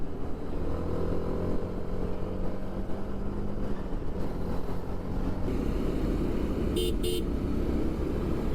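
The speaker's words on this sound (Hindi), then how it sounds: "हॉर्न की अगर बात करूँ तो हॉर्न भी ठीक ही लग रहे हैं, मतलब डुअल हॉर्न वैसे इसमें कंपनी फिटेड आते हैं" Dual factory-fitted horns on a BMW G 310 RR motorcycle give two short, close honks near the end, over a steady engine idle and background traffic noise.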